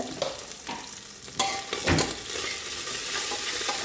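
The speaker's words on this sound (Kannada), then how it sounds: "ಇದು ಸಿಮ್ಮಲ್ಲಿ ಇಟ್ಟು ಸ್ವಲ್ಪ ಒಂದು ಐದು ನಿಮಿಷ ಫ್ರೈ ಮಾಡಬೇಕು" Whole spices are fried for ghee rice on a low flame: green chili, cardamom, star anise, clove and cinnamon. A spoon stirs them in the pan with scraping strokes and bumps over a steady soft sizzle.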